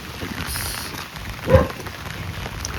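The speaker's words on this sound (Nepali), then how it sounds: "सिमसिमे पानी परिरहेको छ" Light drizzle falling outdoors near a rural road lined with maize fields, a steady faint patter with one brief louder burst, close and without talk.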